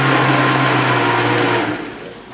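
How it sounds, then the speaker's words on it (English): Blender whirring through cheese sauce, a loud, steady motor whine heard close up that runs for a second and a half, then winds down and fades as the blades slow, with no voices. "you just want to shake your blender around a little bit"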